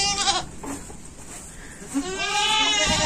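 Goats on a farm bleat in short wavering calls, one near and loud at the start and more overlapping cries toward the end, with quiet farmyard noise in between.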